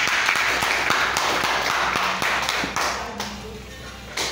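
A church congregation clapping in praise of the Lord, heard as scattered, irregular sharp claps and taps that come close and fairly loud, with some voices mixed in.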